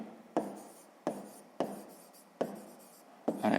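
Pen writing by hand on paper while working a sixth-grade math exercise, heard as five separate close strokes, each starting with a sharp scratch and fading, with short pauses between them.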